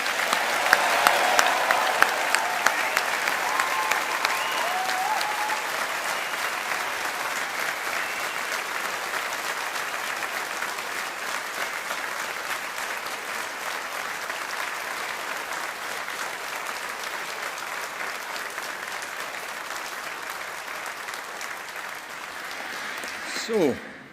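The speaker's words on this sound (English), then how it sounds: "let's give the class of 2024 a big round of applause" Crowd applause for the graduating class of 2024 at a Strathclyde university ceremony, loud and dense at first, then holding a long steady roar of clapping before tapering near the end.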